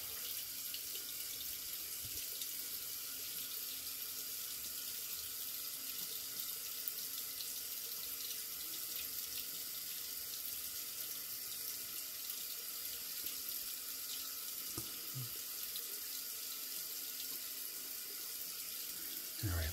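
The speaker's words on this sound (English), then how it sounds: "switching the sink to cold. Let that run cold for a minute." Cold tap water runs steadily into a bathroom sink, a continuous even splashing hiss that holds for the whole stretch with no talking.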